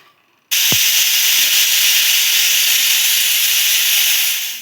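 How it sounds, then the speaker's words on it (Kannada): Steady, loud steam hiss from a pressure cooker whistle boiling lentils, bursting on abruptly after a brief quiet start and holding continuously to the end. "ನಾನು ಕುಕ್ಕರ್ ಸಿಟಿ ಹಚ್ತಾ ಇದ್ದೀನಿ. ಅದು ಹಚ್ಚಿದ ಮೇಲೆ 4 ಸಿಟಿ ತೊಗೊಳ್ಳೋಣ."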